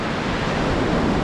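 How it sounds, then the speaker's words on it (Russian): Sea waves and wind on a Phuket beach make a dense, steady wash of broadband noise, loud and unbroken, with wind buffeting the microphone and no voices. "сегодня ветерок волну нагоняет"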